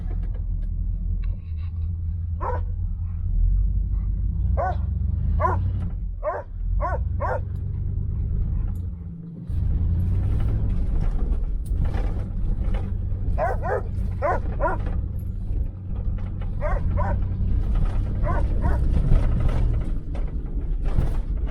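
A neglected 1977 Chevy Malibu Classic fitted with Edelbrock parts idles with a steady low engine rumble throughout, while sharp intermittent yips and barks from a dog sound nearby.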